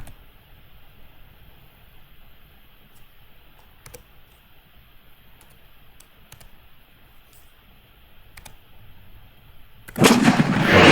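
In the Armoured Commander II video game, a tank gun fires at a target: a single sudden, loud boom near the end follows a long quiet stretch of sparse soft clicks.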